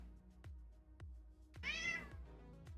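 Soft, close cat meow rising and falling once, with several faint tapping clicks before and after.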